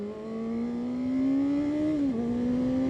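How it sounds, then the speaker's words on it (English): A 2025 Honda CBR 600RR inline-four engine revs smoothly and steadily, its pitch climbing and holding high before dipping briefly, loud and close with no talk over it. "that is a smooth engine. Look at that. You can just rev it out."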